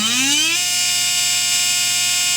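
A SpeedZone Evolution 17.5 brushless motor on a test run spools up with a rising electric whine, then settles into a steady, loud high-pitched hum that holds at constant speed.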